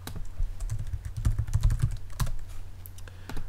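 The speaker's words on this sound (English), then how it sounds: "this time I'll type JavaScript colon and paste in the URL encoded script" Close-up typing on a computer keyboard gives a steady run of soft key clicks with a few sharper taps over a low hum.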